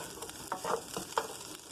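Vegan sausage sears in a pan with a soft, steady sizzle and a few quiet stirring taps, faint and close.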